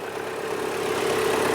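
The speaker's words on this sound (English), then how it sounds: "the engine's lovely and smooth" An MG ZR car engine idles smoothly with a steady, even low hum that swells slightly louder toward the end, with no voices.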